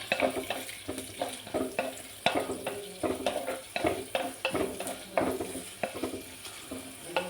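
Long-sliced big onions with fennel seeds frying in a pan for vegetable kurma, stirred with a spoon in a steady run of scraping strokes over continuous sizzling, close and alone.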